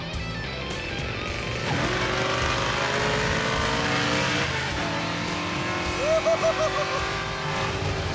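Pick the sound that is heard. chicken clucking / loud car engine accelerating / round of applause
loud car engine accelerating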